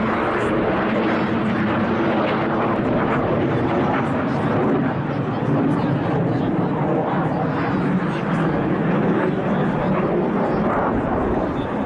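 Saudi Hawks team of BAE Hawk jets flying in formation at an air display, a broad continuous jet roar holding steady and loud throughout, with a commentator's voice running over it.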